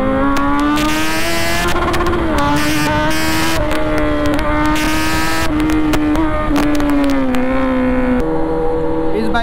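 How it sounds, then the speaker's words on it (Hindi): A loud Kawasaki Z900 with a full-system Austin Racing exhaust revs repeatedly close by, the exhaust note rising and falling in sharp bursts with a raspy, aggressive tone. "इसमें लगा हुआ है फुल सिस्टम ऑस्टिन रेसिंग देख सकते हो कितना लाउड है"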